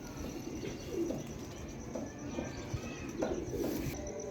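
A golden Kamagar pigeon breeding pair coos softly in repeated low, throaty bursts at an uneven rhythm, close by over a faint steady background hum.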